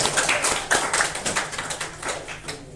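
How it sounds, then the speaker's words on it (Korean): A small church congregation gives welcoming applause for a returning member after a worship service. Several people clap unevenly for a few seconds, close and moderately loud, with the claps thinning out toward the end. "환영하는 박수"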